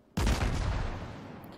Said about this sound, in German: Schüsse sind raus.